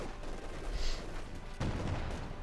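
Gunfire crackles through a Company of Heroes 2 battle between German and Soviet forces, a steady dense fusillade with a heavier burst near the middle and renewed firing toward the end, continuous and fairly close.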